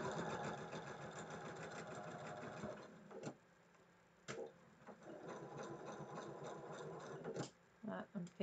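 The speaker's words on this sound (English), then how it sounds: "let's sew the seam" A sewing machine stitches a quilt block seam with a fast, steady mechanical whir that stops and restarts in short bursts, with clicks and handling noises in the pauses and a voice talking in between.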